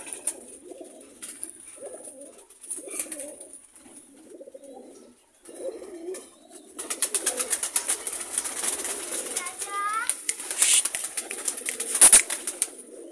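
Lakha high-flyer pigeons coo in repeated soft, throaty phrases, close by, then wings flap and rustle in busy bursts in the later half, with a faint whistle-like chirp.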